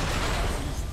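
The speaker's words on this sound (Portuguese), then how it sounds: "Vou usar aqui o canhão" A cannon fires in the video game Nioh, giving a short, loud, dense burst of explosive noise that fills the whole moment without pause.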